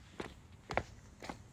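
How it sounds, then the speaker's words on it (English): Three footsteps at an unhurried pace on a hard street surface, close by and fairly quiet, with faint outdoor background noise and no talking. "Just walking down the street with my girlfriend."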